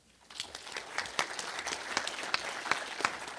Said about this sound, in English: That, I think, is worth a round of applause.